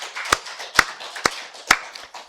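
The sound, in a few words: congregation applauding in church worship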